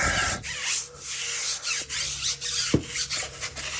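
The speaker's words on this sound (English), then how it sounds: "We'll get a brush, scrub this wheel well" A brush scrubbing the wheel well of a Honda Civic, repeated rasping strokes in an uneven back-and-forth rhythm, close and fairly loud with a short knock partway through.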